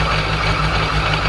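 A supercharged Procharger 426 engine in a C10 truck runs on a dyno, a loud, steady, deep idle with a rough pulsing rumble and no talk.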